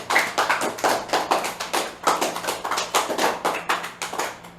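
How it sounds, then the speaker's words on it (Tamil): A classroom of students claps for a fellow pupil, a brisk burst of many hands close by, with uneven pulses of applause running steadily for a few seconds. "அந்த பொண்ணுக்கு ஒரு கைத்தட்டு கொடுங்கப்பா"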